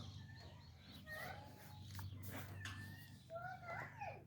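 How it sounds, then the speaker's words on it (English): A rooster crows faintly in the background of a backyard garden, several short rising calls mixed with other bird chirps, distant and quiet over a low hum. "And Rodney's back there. He won't shut up, crowing all day, all night."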